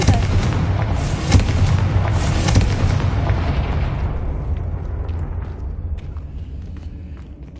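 A Confringo blasting spell in a Hogwarts video game explodes with a loud, close boom, followed by a heavy rumbling blast that slowly fades away over several seconds.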